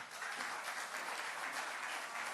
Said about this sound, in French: Bravo, on va encore l'applaudir